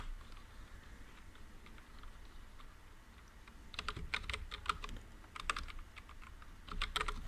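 Java code being typed on a computer keyboard, quiet hum at first, then bursts of fast, close key clicks with short pauses between runs.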